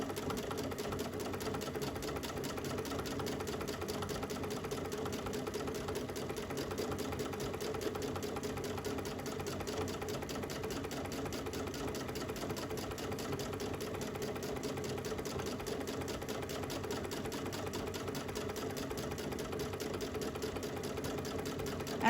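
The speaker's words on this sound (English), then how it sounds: "I'm going to do the reinforced stitch again, just to create a knot at the beginning of my stitches" A Brother Luminaire sewing machine stitches steadily during free motion quilting, producing a fast, even mechanical whir and needle clatter that runs continuously at close range at a consistent pace.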